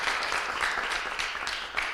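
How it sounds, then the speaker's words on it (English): An audience at a school concert applauds in a dense, steady wash of clapping that holds at an even level throughout. "It's a huge round of applause."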